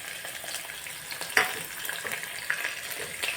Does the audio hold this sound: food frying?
yes